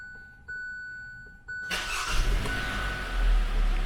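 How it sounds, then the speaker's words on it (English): A 2017–2018 Hyundai Elantra, freshly fitted with a new battery, cranks and catches after a couple of soft door-chime dings, its engine then settling into a steady, close idle rumble with no talk. "Let's try and start the car now and see how it works out"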